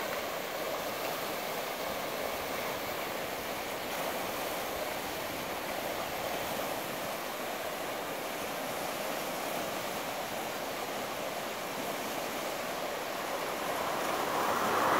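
Steady broadband rush of the Salmon River flowing near Stanley, Idaho, continuous and fairly loud throughout, swelling slightly toward the end, with no voices.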